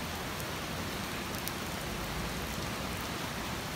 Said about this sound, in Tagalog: Kaya makinig muna kayo sa mga patak ng mga ulan. Relaxing sounds of rain.